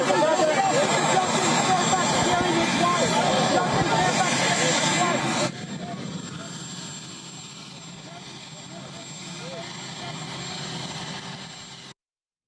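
A presidential helicopter's engine and rotor roar steadily and loudly, dropping to a lower, softer whine partway through before cutting off.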